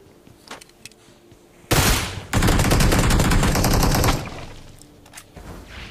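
Heavy burst of automatic gunfire in a video game shootout, loud and sustained for a couple of seconds after a single sharp shot, then fading to quieter background game sounds.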